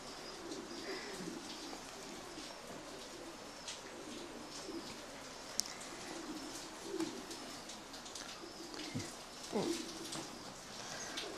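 A racing pigeon, offspring of a top Polish champion, cooing softly in a loft, with faint, scattered coos over a light patter of background noise.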